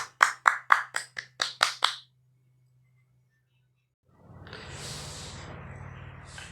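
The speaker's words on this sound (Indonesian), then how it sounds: "Aplaus untuk kita semua." An audience at a school orientation session claps together in eight quick, even beats, sharp and close, followed by two seconds of silence and then a soft diffuse rustle of the room.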